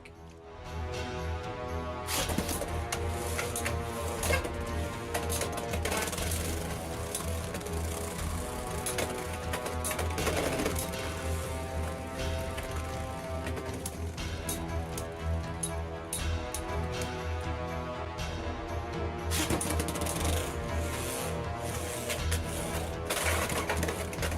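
Beyblade X tops, Scorpio Spear and Tricera Press, battle in a plastic stadium: a dense, continuous whirring rattle with sharp repeated clacks of collisions, fairly close.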